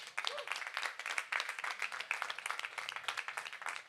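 Crowd applause at the opening ceremony of a Relay for Life charity event in Rixensart, a dense, steady patter of many hands clapping continuously and fairly close throughout.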